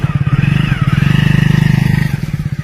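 A motorcycle engine runs close by, holding a steady, throbbing idle with a rapid, even pulse for the whole stretch, while a voice may briefly sound over it.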